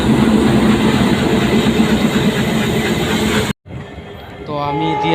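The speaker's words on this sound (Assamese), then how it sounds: "ফাইনালি আহি গ'ল আমাৰ ট্ৰেইন।" A train at a station platform in Assam, a loud continuous rumble with engine and carriage noise that cuts out briefly near the end before resuming with fainter tonal sounds, under crowd noise.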